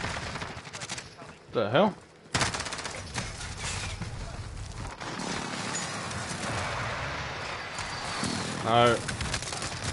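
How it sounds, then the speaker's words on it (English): Video game gunfire with rapid shots from several shooters amid smoke, crackling steadily through the clip beneath a man's startled spoken remarks. "they're still shooting me"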